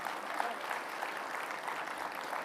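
Audience applause for astronauts at a National Space Day ceremony, a steady roar of many hands clapping in a large hall, sustained and fairly faint, with no one talking over it.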